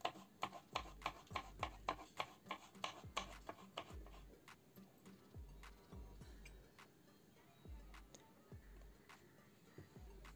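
Knife chopping onion and green chillies on a board for bun dosa, a quiet run of sharp, quick taps in irregular bursts with short pauses, no voices.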